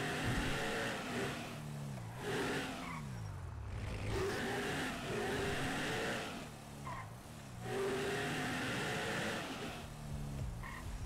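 A car engine in GTA 5 roleplay drones and revs, pitch rising and falling through gear changes as the vehicle drives, steady and fairly loud throughout with no talk.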